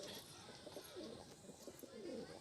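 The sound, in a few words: pigeons cooing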